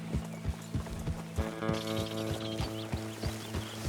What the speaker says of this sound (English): Get to herd some of these horses.